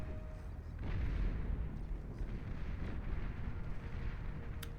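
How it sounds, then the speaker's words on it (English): Distant artillery barrage pounding medium tanks in the real-time strategy game Beyond All Reason, a low rumbling wash of repeated blasts swelling after the first second and continuing steadily, with no talk. "Sheldon doing a lovely job of barraging away at these medium tanks"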